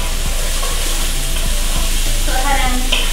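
Onions fry in a pan over medium heat with a loud, constant sizzle and occasional spatula taps, close up and without speech.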